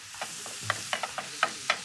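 Cheesesteak meat chopped on a hot griddle with two spatulas: a quick, irregular run of sharp metallic clacks and scrapes over a soft sizzle, close and fairly loud, no voices.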